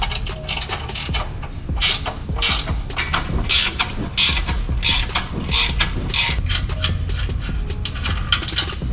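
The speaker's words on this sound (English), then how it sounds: "I'm using a 14mm wrench. Gonna loosen all 4 of these right here." A 14mm wrench ratchets on the exhaust bolts of an Infiniti Q50 VR30, with a rapid run of close, loud metallic clicks and clacks, no talk.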